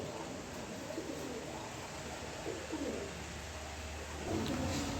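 Breeding pigeons coo softly in low, repeated murmurs, faint and close, against a steady background hiss.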